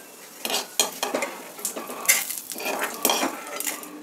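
Fried lentils, chana dal and urad dal, being scooped out of a pan onto a plate, giving a run of scraping, clinking spoon-on-metal strokes and light rustling, close and fairly quiet.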